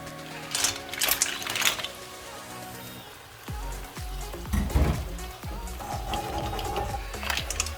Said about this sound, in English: let's add our mussels